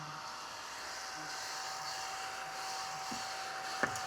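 A small desktop vacuum sucks up dust and blade shavings from a knife sharpener's belt, giving a steady, faint whirring drone close by with a brief tap near the end.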